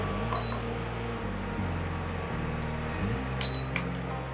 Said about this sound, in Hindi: तो अब हम इस इंडक्शन को ऑन करते हैं और इसका कंट्रोल पैनल अच्छे से समझते हैं।